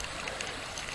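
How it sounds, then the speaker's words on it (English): Water rushing steadily in a creek, a dense, even broadband wash, close and continuous with no voices. "the sound of water rushing"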